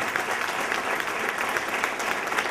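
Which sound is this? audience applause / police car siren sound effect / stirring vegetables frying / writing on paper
audience applause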